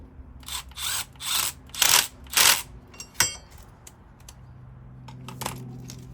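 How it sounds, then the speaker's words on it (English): A hand ratchet tightens a brake bolt on a Honda TRX500 Foreman ATV, with several short bursts of quick, close metallic clicking and a few scattered clacks afterwards. "I'm using a ratchet to tighten it"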